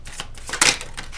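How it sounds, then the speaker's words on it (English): Tarot cards being shuffled by hand, a quick burst of papery riffling and flicking with a louder snap near the middle, close and without speech. "But let's shuffle more for Sagittarius."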